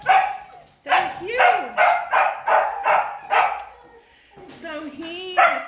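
A nine-week-old shepherd-type puppy weighing 18 pounds yips and barks in quick repeated bursts, close and loud, with brief whining slides between barks and a short pause before a final yelp.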